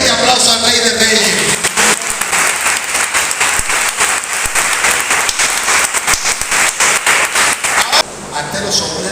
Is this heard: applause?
yes